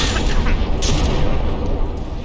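Battleship guns fire in From the Depths during a Puget Sound versus Bismarck brawl: a dense, loud volley of booming blasts and crackling reports packed into a couple of seconds.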